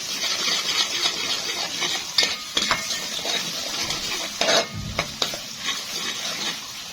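Paprika and spices being stirred into rice in a pan: steady sizzling with scraping spoon strokes and a few sharper metallic clinks, close and alone without talk.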